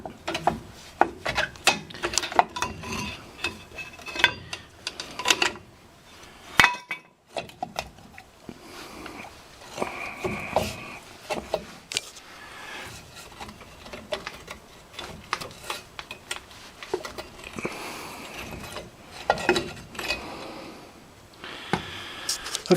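Rear drum brake shoes and springs on a Ford Ranger being pried apart make irregular metallic clicks, scrapes and rattles, with short bursts and pauses throughout, close up and fairly quiet.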